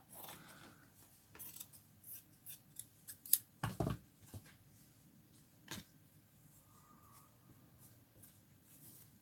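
Scissors snipping through a clipboard, a few quiet sharp cuts clustered near the middle with faint handling clicks and rustles around them, close and alone.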